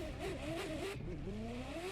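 A tuned Ferrari F40 in The Crew 2 racing game revs and shifts, its engine note climbing, dropping at a gear change and climbing again in a loud, close, rasping wail over two seconds.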